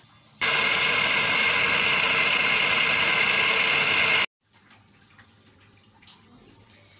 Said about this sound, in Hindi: अब हम इनको ब्लेंड करेंगे अच्छी तरह